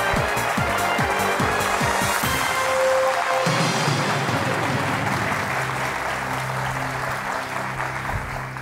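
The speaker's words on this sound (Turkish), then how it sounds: "Alkışlar da bir büyüdü Eyüp, farkında mısın?" A studio audience on a Turkish quiz game show claps steadily and loudly throughout, a dense continuous wash of applause with some low background sound early on.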